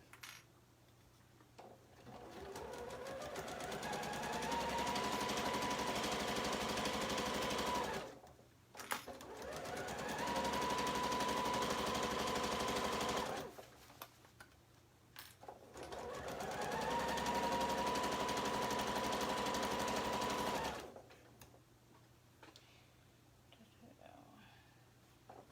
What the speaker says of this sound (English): Back stitch at the beginning of your seam.